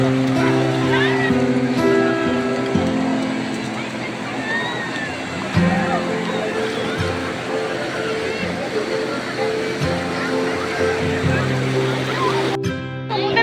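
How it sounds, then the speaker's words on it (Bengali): Sea waves wash ashore at Digha beach in a steady, loud broadband rush with swelling surges, while people talk nearby throughout. "সেই দূরে দূরে আবার ঢেউ"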